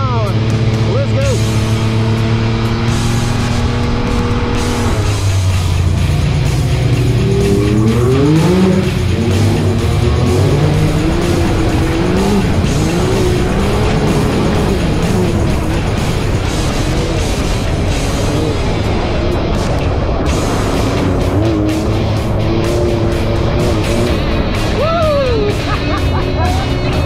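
Pro XP and Maverick X3 UTVs ride off-road on Drummond Island, engines revving and droning loudly throughout with shifting pitch as they accelerate, with people talking and shouting over the motors.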